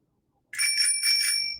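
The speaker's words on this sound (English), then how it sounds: "It's a little bell." A small bell gives a bright, close metallic ring that starts suddenly after a moment of silence, pulses briefly and sustains for about a second.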